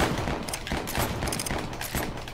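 Rapid gunfire from the Western shooter game Westerado, a dense run of repeated shots crackling loudly and continuously with brief irregular gaps.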